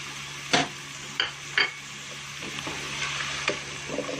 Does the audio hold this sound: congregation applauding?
no